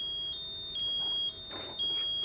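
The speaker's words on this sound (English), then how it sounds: "verify that the unit's buzzer alarms audibly for at least 2 minutes" A device's built-in buzzer alarm emits a steady, piercing high-pitched electronic tone in repeated long pulses with brief breaks, loud and close with faint background noise.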